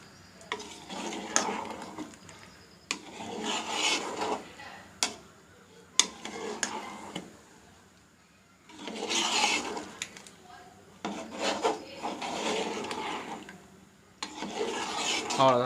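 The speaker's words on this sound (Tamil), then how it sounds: "ஒரு வாட்டி ரைஸ் போகிறதுக்கு முன்னாடி ஒரு வாட்டி மிக்ஸ் பண்ணி விட்டுக்கலாம்" A spoon scrapes and stirs through thick chicken biryani gravy in a cooking pot, in several bursts of rasping, sizzling strokes separated by pauses, with a person talking between them.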